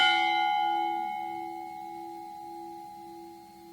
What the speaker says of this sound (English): we will ring the memorial bell in honor of Charles T. Lewin.